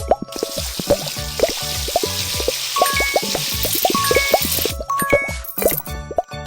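Cartoonish water effects from a pet salon video game during an animal's shower, with steady bubbly plops, drips and light tinkles layered over a continuous hiss, playing alone with no talk.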